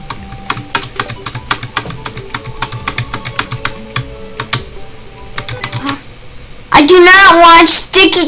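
Rapid, irregular clacking of typing on a computer keyboard with sticky keys runs close and clear for several seconds. Then a loud, sudden vocal outburst cuts in near the end.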